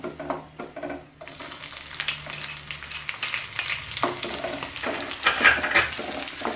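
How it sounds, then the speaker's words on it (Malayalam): Sliced small onions drop into hot oil in a pan and fry with a steady crackling sizzle, while a spoon stirs them with scraping sounds close by. "ഇനി നമുക്കിതൊരു ഗോൾഡൻ ബ്രൗൺ ആവണ വരെ ഒന്ന് ഇളക്കി കൊടുക്കാം."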